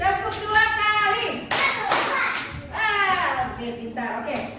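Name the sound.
children clapping twice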